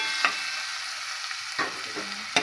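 Onion fries in a mix of oil and butter for pav bhaji, a close steady sizzle broken by a few sharp spatula taps as it is stirred, with no voices.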